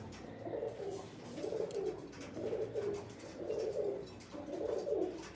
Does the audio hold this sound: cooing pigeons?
yes